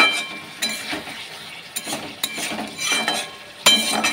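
Fish pieces are stirred and sautéed in a pan with a faint background sizzle, with soft scrapes and light clinks of a utensil coming in an irregular rhythm.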